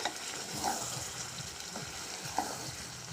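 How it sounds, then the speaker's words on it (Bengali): Pointed gourd sautéing in a kadai hisses quietly while being stirred, with soft scraping strokes and a couple of small clinks over a steady low sizzle. "তো দু মিনিট পরে আমি এখন কড়াইয়ের ঢাকাটা খুলব ভালো করে কষিয়ে নেব"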